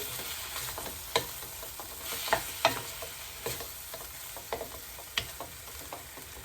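Fish head fried with spice masala in a wok sizzles quietly beneath repeated sharp scrapes and knocks of a spatula stirring and breaking it apart, several distinct clacks spread across the stretch.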